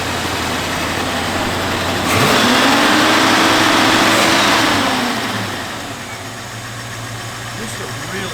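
A 1951 Chevrolet 3100 pickup truck engine idles steadily, then revs up for a few seconds with a rising hum before settling back to a smooth idle, close and clear with no talking.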